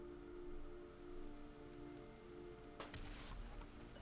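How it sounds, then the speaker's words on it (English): Rain begins falling in World of Warcraft, a soft, steady hiss of drops beneath sustained ambient game tones, with a brief crackling burst near the end. "As it starts to rain."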